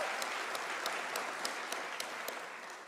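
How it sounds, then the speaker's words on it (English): Warm applause for a graduate of an honours degree in international relations at a University of South Africa autumn graduation ceremony, a dense steady crowd clapping from a distance with scattered sharper claps, no talking. "Can we give him a round of applause?"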